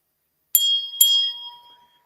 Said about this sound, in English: Don't forget to hit the notification bell.